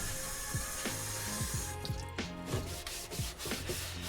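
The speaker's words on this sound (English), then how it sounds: "I'm just gonna spray this with some of this water mixture, some diluted soap" Several quick squeezes of a spray bottle trigger spraying diluted dish soap water onto a 3D-printed mask, each a short squeaky pump with a hiss of mist, repeated in an uneven rhythm.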